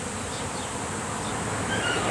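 A honey bee swarm with a virgin queen, buzzing in a continuous close drone of many wings, steady and unbroken throughout.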